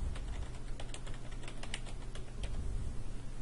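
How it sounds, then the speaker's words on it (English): Rapid, uneven keystrokes on a computer keyboard as a search term is entered, a close burst of light clicks with no talking. "we'll type in our search term Affordable Care Act"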